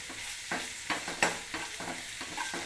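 Onions and ginger paste frying in a pan while being stirred, with a constant close sizzle punctuated by about six rhythmic scraping strokes of a spatula, moderately loud and without any talking.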